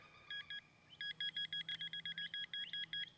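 A pinpointer metal detector beeps in a dig hole: two short tones, then a rapid run of about a dozen evenly spaced high beeps, clear against quiet outdoor background.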